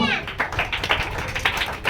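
Children clapping their hands during a Sunday school game, with a quick run of sharp, close claps over lively chatter and kids' voices.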